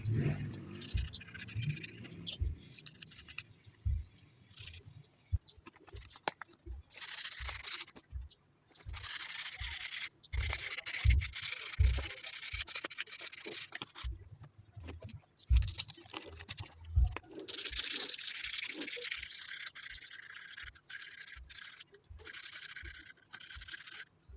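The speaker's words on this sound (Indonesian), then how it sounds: "biar lebih halus, baru kita amplas" Repeated rough scratchy strokes of sandpaper rubbing against a wooden boomerang-shaped smoking pipe, in bursts with short pauses, close and fairly quiet.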